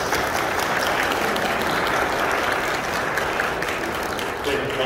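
Loud, steady applause from wedding guests fills a wedding hall as the ceremony begins, continuous dense clapping throughout with crowd murmur mixed in.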